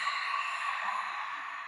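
A long, steady ocean-breath exhale in chair yoga, a soft, even breathy hiss through the throat that holds its level for nearly two seconds with no other sound.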